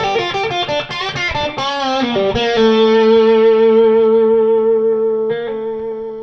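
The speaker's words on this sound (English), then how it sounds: "switching over to distortion again, if I play a line like this" A distorted electric guitar plays a short melodic line, then rings out on a sustained note that slowly fades, with a brief restruck note near the end.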